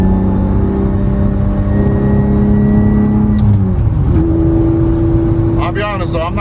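An Acura TL Type-S with straight-cut gears and a short shifter accelerates in third gear at part throttle, its engine tone climbing steadily and then holding as a strong continuous drone from inside the cabin, with a voice briefly at the end.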